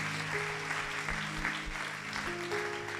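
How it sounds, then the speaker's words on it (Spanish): A church congregation claps through a short round of applause, steady and moderately distant, with organ or keyboard chords sustained underneath. "¿qué tal si le das aplauso al que tiene poder?"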